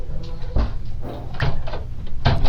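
A door is shut, giving several dull close thuds and knocks in an uneven rhythm over a low room rumble, with no voices.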